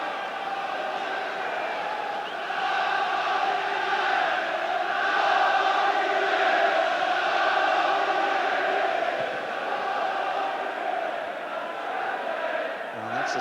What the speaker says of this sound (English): United crowd appealing for the corner.